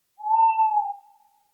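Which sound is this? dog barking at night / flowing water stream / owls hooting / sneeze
owls hooting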